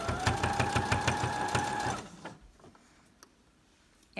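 A sewing machine running a triple stitch to topstitch the short pleated edge of a fabric mask whirs in a fast, even rhythm for about two seconds, close and alone, then stops into quiet.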